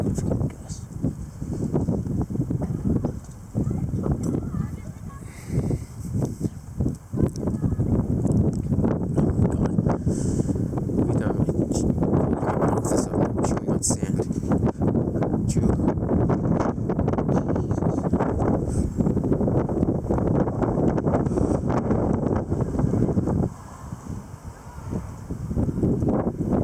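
Strong, sustained gusts buffet the microphone in a sandy April windstorm, a loud continuous roar with brief dips and a quieter lull near the end, with no talking.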